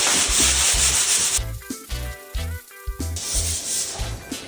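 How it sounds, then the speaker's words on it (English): Rhythmic rasping strokes of sanding rub back and forth, loud and close, pausing briefly midway before the scratchy passes resume. "Did I mention there's sanding?"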